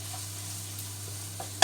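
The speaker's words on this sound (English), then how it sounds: "So just give that a stir." A sauce for lemon sole, cooked Italian style, sizzles gently in a pan while being stirred, a soft steady frying hiss ending in one sharp scrape of the spoon.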